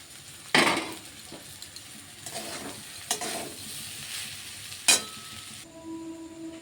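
Chow mein noodles stir-fried with vegetables in a hot pan: steady sizzling broken by several sharp scrapes and clatters of a utensil against the pan.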